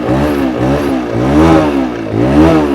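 A TVS Raider 125cc motorcycle engine, just kick-started, revs up and down under repeated throttle blips, each rise and fall of pitch clearly audible, close and loud with no talking.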